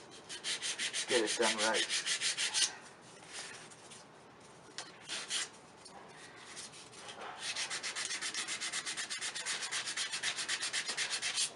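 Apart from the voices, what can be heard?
sanding a wooden ring dish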